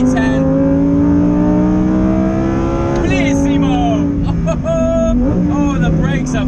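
Lamborghini Huracán Performante V10 revving hard around Imola, loud rising engine tones climbing through the gears with a sharp shift and renewed climb near the middle, steady and close throughout.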